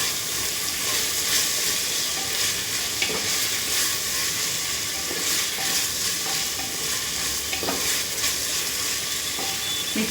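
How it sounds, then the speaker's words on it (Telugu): Prawns stirred into a hot pot for a chicken, prawn and egg biryani, with loud steady sizzling and frying hiss, punctuated by scraping spoon strokes against the pot. "ఈ ప్రాన్స్ వేసుకుంటున్నాను. వేసుకుని బాగా మిక్స్ చేసుకోవాలి."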